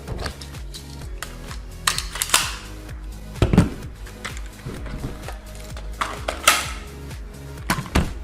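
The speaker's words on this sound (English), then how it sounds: "go ahead and insert one magazine into your movie prop gun" A magazine is inserted into a movie prop carbine, making a run of crisp metallic clicks, rattles and one sharper clack up close, with scattered mechanical handling noises in between.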